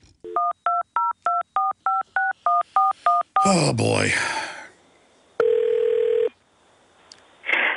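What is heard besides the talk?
telephone dialing touch tones on another phone line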